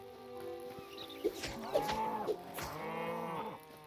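Cows moo in the video game Hytale, several short lowing calls close together over a steady game music bed, with brief clicks between them.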